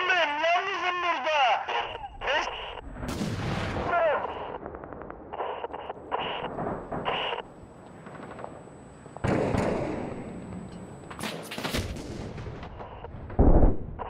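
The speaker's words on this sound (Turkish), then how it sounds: "Sizin çatınızdaki adam beni vuruyor." Video game gunfire in Six Days in Fallujah from an enemy on a rooftop, with sharp irregular shots and blasts scattered through a chaotic firefight as players shout in Turkish.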